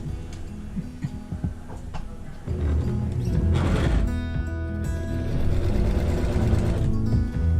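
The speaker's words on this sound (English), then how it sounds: "I'm sewing the binding on it" Sewing machine stitching binding onto a quilt, a rapid rhythmic mechanical ticking and whirring that speeds up and grows louder partway through, heard up close.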